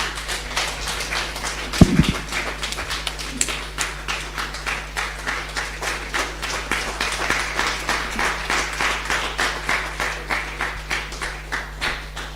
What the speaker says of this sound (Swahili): Tupigeni Alan makofi.